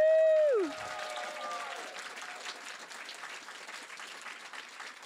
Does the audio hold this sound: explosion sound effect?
no